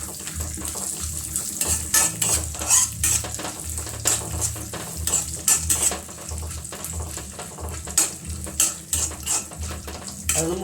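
Ingredients with garlic frying in a pan, a loud, close, continuous sizzle mixed with frequent utensil scrapes and clanks from stirring.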